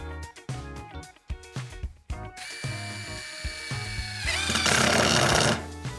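A Dnipro-M DTD-201BC cordless impact driver runs in stop-start bursts, then hammers steadily as it drives a screw through metal into wood, loud and close with no talk.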